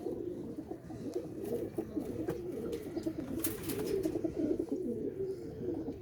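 Several Sialkoti Gumbatwala pigeons coo steadily, soft throaty murmurs overlapping continuously at close range, with a few faint chirps and rustles.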